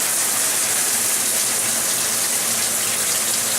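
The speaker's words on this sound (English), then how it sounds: "I'm just going to turn on the water and we'll see how it flows." Water gushes steadily and loudly from a newly installed handheld shower head, a dense unbroken hiss of spray with no voices.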